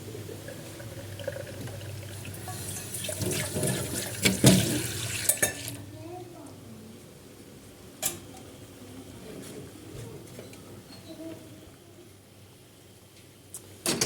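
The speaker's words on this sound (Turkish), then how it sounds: "Dabanımda biraz kireç var. O yüzden dökmek istedim." Water with limescale poured out of a kettle, a steady splashing pour for about five seconds that stops abruptly, followed by faint clinks and near-quiet room tone.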